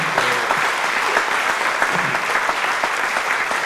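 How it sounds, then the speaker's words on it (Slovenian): A crowd applauds steadily at a jazz school and children's choir concert, dense clapping filling the room without pause. "si tudi en aplavz vaše strani zaslužita"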